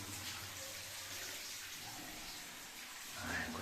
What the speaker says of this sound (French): On est de retour à la cascade.